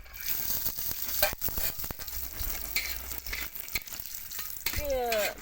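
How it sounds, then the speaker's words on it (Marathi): Grated coconut roasting in hot oil on a heated pan, with a soft, crackling sizzle broken by scattered sharp clicks and scraping, fairly faint and close. "तवा तापलाय आणि तेल बी तापले"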